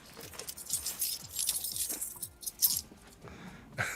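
Keys jangling close by in short repeated metallic clinks and rattles as a set of keys is grabbed, a fairly soft, busy jingle with no talk over it.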